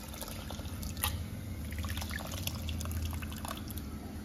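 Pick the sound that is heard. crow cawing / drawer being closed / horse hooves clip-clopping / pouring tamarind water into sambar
pouring tamarind water into sambar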